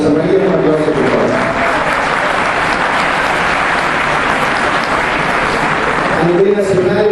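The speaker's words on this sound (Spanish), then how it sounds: "La doctora Rosa María, un aplauso, por favor." A conference audience applauds during an education reform talk, a dense, sustained wash of clapping lasting about six seconds before it tapers off.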